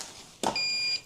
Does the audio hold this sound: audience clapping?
no